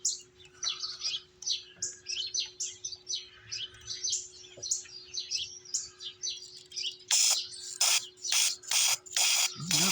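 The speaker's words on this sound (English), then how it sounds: "Try and blow some carb cleaner up that jet too." Carb cleaner sprays from an aerosol can into the carburetor jet of a 1970 Lawn-Boy Buttercup mower, several loud hissing bursts in a row after a stretch of busy birdsong outdoors.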